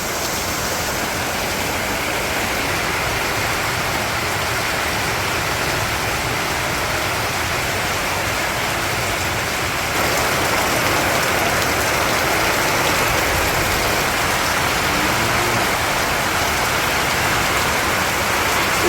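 Rain falls steadily in a village on a rainy day, a dense continuous hiss of drops on surfaces close by, growing slightly heavier partway through, with no voices.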